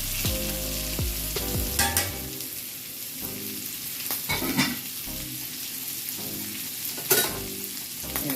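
Onions hit a hot pan with bacon for Southern fried cabbage and sizzle loudly, with scraping stirs and clinks of a utensil over a steady frying hiss, close up and without talk.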